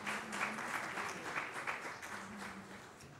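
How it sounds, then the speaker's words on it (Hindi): A crowd applauds steadily at a ceremony addressed by Pakistan's prime minister, a dense patter of clapping at moderate distance that slowly fades, with a faint voice briefly underneath. "उनके लिए भरपूर ताली लगाएं"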